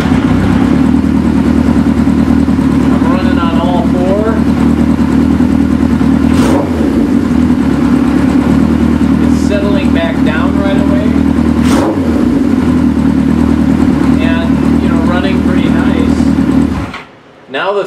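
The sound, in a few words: GS550 cafe racer motorcycle engine running at idle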